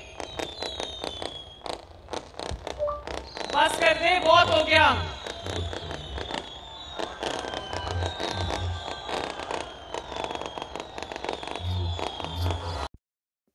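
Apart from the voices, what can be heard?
firecrackers bursting at a political rally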